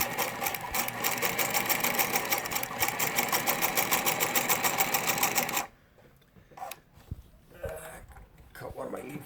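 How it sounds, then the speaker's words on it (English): A Singer 252 sewing machine runs a zigzag stitch, its fast, steady mechanical clatter loud and close for about five seconds before it stops, leaving quieter handling noises and faint talk. "Now we'll do the zigzag."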